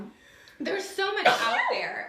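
A single sharp human sneeze bursts out mid-conversation, followed by a person speaking quietly.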